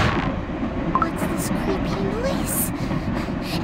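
A train runs in Cookie Run Kingdom with a continuous rumbling, rattling roar of rolling wagons and faint wheel squeals throughout, while voices talk over it.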